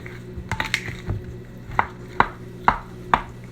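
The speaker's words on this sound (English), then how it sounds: "Mash them out really good till there are no clumps." Boiled potatoes mashed with butter in a pot, a series of sharp metallic knocks and soft squishes at irregular intervals, close and fairly quiet, with no talking.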